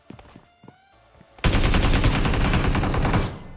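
Automatic gunfire from the BGMI battle royale game: after a quiet stretch with faint scattered sounds, a loud, dense burst of rapid shots starts abruptly and continues steadily for about two seconds before cutting off.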